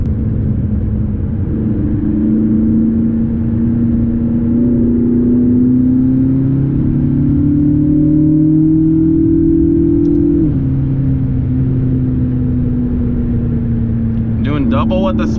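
A dual-clutch supercar accelerates at high speed, its engine droning loudly and steadily with rising and shifting pitch throughout, under continuous road and wind roar.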